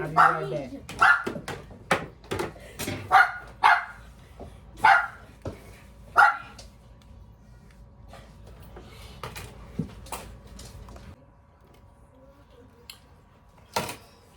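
A pet dog at home barks in a quick series of sharp yaps, then gives a few softer whimpers and a final bark, with a person speaking over the start.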